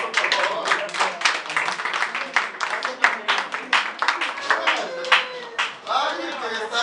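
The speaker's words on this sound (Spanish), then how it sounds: "Un aplauso, por favor." Audience clapping at a poetry reading in a small venue, a lively burst of fairly close hand claps with some voices mixed in, tapering toward the end as talk and cheers rise.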